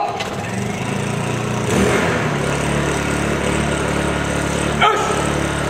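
Small portable generator floodlight engine running at a steady, loud drone with a continuous mechanical hum, a brief surge in level near the middle and a short sharp knock near the end.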